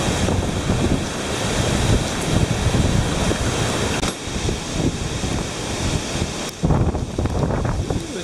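Hurricane Irma's winds roar across a microphone in South Florida, a loud, continuous, buffeting rush with surging gusts and no voices.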